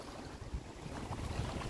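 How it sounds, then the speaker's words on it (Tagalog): Strong wind and waves outdoors on a gusty coast, a steady roaring rush buffeting the microphone with low, rolling surges and no voices. "Malakas kasi yung hangin, yung alon."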